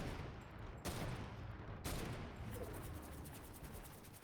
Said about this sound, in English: Firefight from so many different angles.